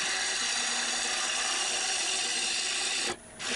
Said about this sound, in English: it doesn't take very long to hollow this out with a nice sharp bowl gouge